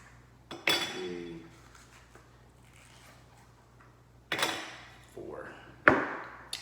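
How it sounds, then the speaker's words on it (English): Four ice cubes drop into a cocktail glass for an Old Fashioned, making a few sharp, close clinks and rattles spaced apart over a quiet background hum. "we're gonna drop some ice in here. I'd say about, I don't know, somewhere between 3 to 5 cubes"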